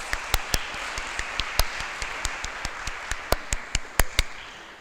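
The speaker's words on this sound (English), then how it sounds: "I want you to help me to give him a big round of applause" Scattered hand claps from a sparse audience at a physical education conference. Sharp, separate claps arrive unevenly over several seconds at fairly low volume and never build into full applause.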